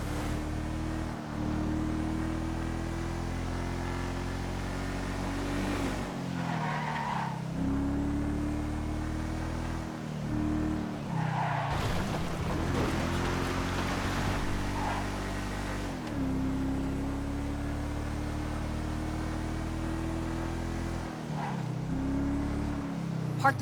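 Game car in GTA Online driving steadily with a loud, continuous engine drone that shifts pitch through several gear-like rises, with brief dips and some background game noise; a voice speaks over it in places.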